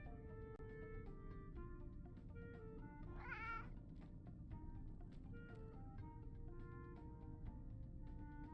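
Cartoonish cat meows from the meow button in the video game Cat Secretary, repeated in quick bursts with one longer rising meow midway, over a steady low game music bed.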